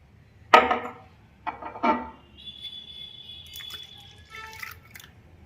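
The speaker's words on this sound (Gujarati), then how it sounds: "પાણી નાખીએ છીએ" Water splashes into gram flour batter for a cholafali chutney in a few brief, sharp bursts, followed by faint kitchen sounds.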